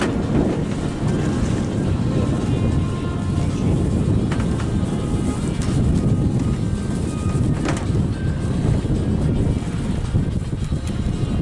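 Strong wind buffets the microphone in a steady, loud roar on the Vychegda river during a raft trip, with water sloshing against the raft throughout and no voices.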